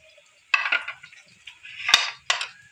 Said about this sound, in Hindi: इनको एक बार अच्छे से हिलाएंगे।